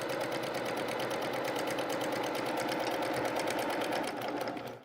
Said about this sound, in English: we're just going to sew 1/4 inch across that edge